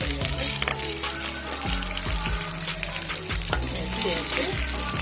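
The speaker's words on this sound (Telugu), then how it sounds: "మినప్పప్పు వేయాలి." Urad dal frying in hot oil for a tempering after mustard seeds and curry leaves, a close continuous sizzle with crackles and a few stirring knocks against the pan.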